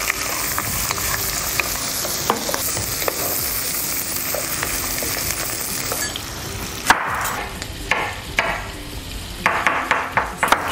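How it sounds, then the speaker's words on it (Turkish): Meat sizzles and fries steadily in a pan of oil and butter, close and continuous, with a few sharp clinks and stirring knocks of a utensil toward the end. "Yağımızı attık ve etimizi koyuyoruz."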